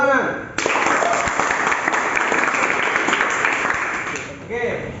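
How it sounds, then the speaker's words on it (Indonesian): Classroom applause from students in a vocational class on body filler work, a dense burst of clapping that starts abruptly, holds steady and loud for about four seconds, then fades, with a voice just before and after. "Oke, tepuk tangan."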